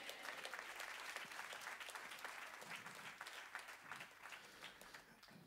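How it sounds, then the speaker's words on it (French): A church congregation applauds with dense, continuous clapping that sounds fairly distant and soft, then thins slightly toward the end. "si on veut applaudir, vraiment, faites-le pour la gloire de Dieu uniquement"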